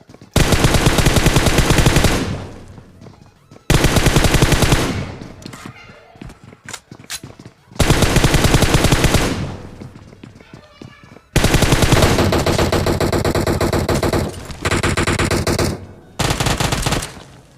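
Loud automatic gunfire crackles in long sustained bursts during a PUBG Mobile battle on Erangel, several heavy volleys with short pauses and scattered single shots between them.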